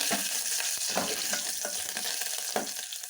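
Curry leaves and dried red chillies sizzle and crackle in hot oil for tomato sambar, a steady close frying hiss with scattered pops and the scrape of stirring throughout.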